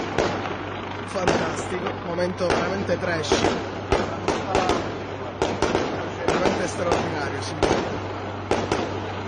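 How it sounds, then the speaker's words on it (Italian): Fireworks launched from rooftops in Palermo at a police helicopter: repeated loud bangs and crackling bursts in irregular succession over a steady engine drone, with someone talking over them. "E per tutta risposta lo Sperone risponde con i fuochi d'artificio."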